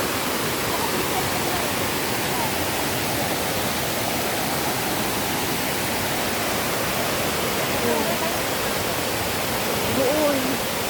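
Waterfall at Mui Wo, a steady dense roar of falling water that fills the whole scene continuously, with faint voices briefly audible near the end.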